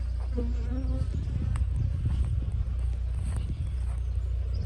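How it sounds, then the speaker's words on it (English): A honeybee swarm hums inside a cardboard box at an apiary, a continuous low buzzing drone with no pauses. "the swarm's in the box at the end here"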